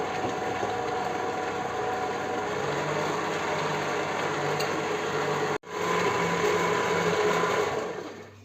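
An electric mixer whirs steadily through thick chocolate cake batter, a loud continuous motor drone with a brief cutout before it starts again.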